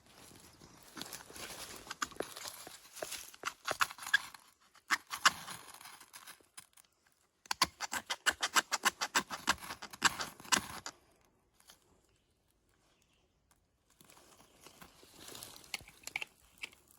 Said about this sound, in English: I'm going to use my flint and steel and try to get this fire going.